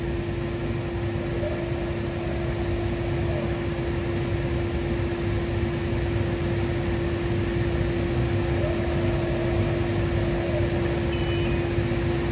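An Epilog laser cutter vector-cuts through an acrylic key tag, giving a steady, loud whir of machine and extraction noise with a constant hum, continuing unchanged throughout with no one talking.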